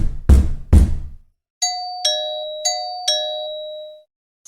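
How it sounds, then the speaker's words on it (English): Heavy knocks land on a front door, followed by a doorbell chiming four times in clear, ringing tones that fade out, all close and loud with no talk. "Suddenly, I heard 3 loud knocks at my front door, and then my doorbell kept going off."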